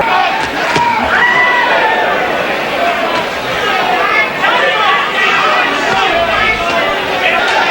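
A boxing arena crowd at a Mike Tyson fight roars and chatters in a loud, dense babble that swells and surges with scattered shouts throughout.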